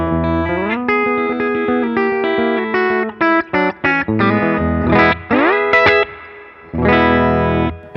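A PRS 40th Anniversary McCarty Dragon electric guitar on its treble pickup plays a lively lick through a Sanzera amp's clean channel, mixing bright single notes and chord stabs with short pauses, close and loud with some effects coloring.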